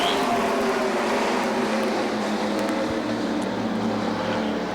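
Modified race cars roar together at Beech Ridge Motor Speedway as the field takes the green flag. The engine noise is a loud, steady, unbroken blare that fills the whole span.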